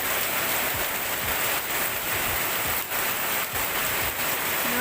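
Steady rain falling outdoors, a dense even hiss of drops with no break, moderately loud and close throughout.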